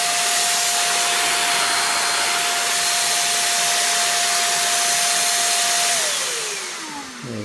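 A Guild 350W electric paint spray gun running, a loud steady whooshing motor drone with a constant whine that holds, then drops in pitch and fades slightly as it winds down near the end.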